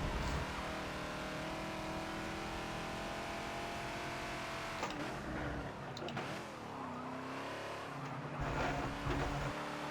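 A Ford Falcon XB in Forza at Catalunya National, its engine droning steadily at high revs with shifting pitch as it accelerates and brakes, with brief tire squeal through the corners.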